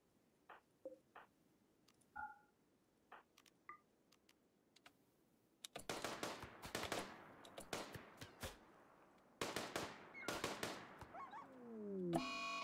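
Gunfire from colonists hunting an animal in the sci-fi colony game RimWorld: a few soft clicks, then two volleys of sharp, rapid shots crackling in quick succession, loud and close, with no talk.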